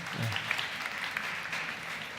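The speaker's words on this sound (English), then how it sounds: "You can clap." Applause from a large conference audience at a travel industry event, a soft, even, distant patter of clapping with a short voice near the start.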